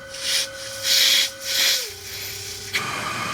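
Noisy CPAP machine with a struggling turbine motor, giving a steady whine under rising and falling breathy airflow swells, close and fairly quiet, with no talking.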